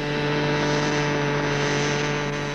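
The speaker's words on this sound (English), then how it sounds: "flight of not one, but two Huey Cobras, simultaneously performing maneuvers never before thought possible" Two model Huey Cobra helicopters fly together, their engines making a steady, loud, droning whine with strong sustained tones and no pause or talk.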